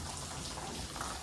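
Heavy rain pours steadily in a dense, unbroken hiss during a monsoon storm, close and loud with no voices.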